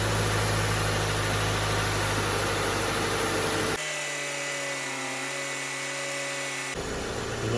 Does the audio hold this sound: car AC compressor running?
yes